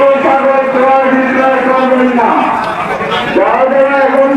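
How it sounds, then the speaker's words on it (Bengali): Cattle at the busy Habiganj cattle market in Bangladesh before Qurbani give a long, loud, close lowing moo that carries on for several seconds, with crowd noise around it. "হবিগঞ্জ গরুর হাটে যে বড় গরু অনেক গরু রয়েছে"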